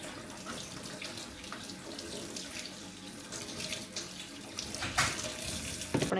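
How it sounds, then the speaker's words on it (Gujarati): Tap water runs steadily into a sink while mushrooms are rinsed one by one in a home kitchen, a continuous close splashing with brief louder splatters near the end. "એક એક મશરૂમ ધોવાનું છે."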